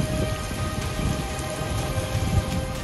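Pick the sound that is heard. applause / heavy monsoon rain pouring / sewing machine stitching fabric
heavy monsoon rain pouring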